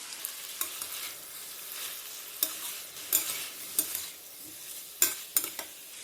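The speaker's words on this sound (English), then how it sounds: "So this is the time that I'll add in a green chili that I have slit, and I'll add in a bit of haldi powder" Slit green chili and turmeric fry in a pan, a soft, steady sizzle broken by repeated sharp scrapes and taps of a spoon stirring, close and without talking.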